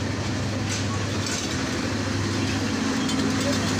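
Intercity Tista passenger train pulling into Mymensingh station, a steady low rumble and rolling clatter that stays loud and close throughout, with no talk.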